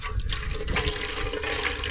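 Water pours steadily into a cooking pot for boiling noodles at an outdoor traditional cooking setup, a brief continuous gushing splash heard up close with no talk.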